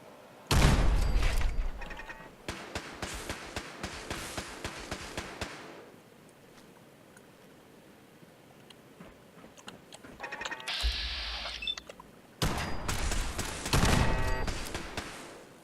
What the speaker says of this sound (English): sounds of turrets nearby, but not much she could really do about it